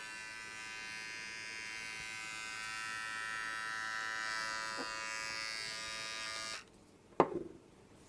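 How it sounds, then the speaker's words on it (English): A Kensen electric body trimmer runs without a guard, its steady high electric buzz shifting slightly as it cuts hair, then stopping abruptly, followed by a sharp click and a brief rattle. "Let's start the process with this default trimmer head without any guard."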